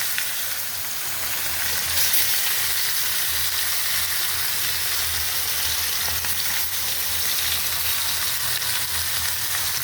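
Tilapia fish fries in hot oil in a wok, a continuous close sizzle and spatter holding steady for about ten seconds with no talk.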